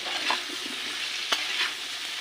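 Potato and pumpkin frying in a pan with a little salt, a quiet, steady sizzle broken by a few soft stirring scrapes and one sharp clink.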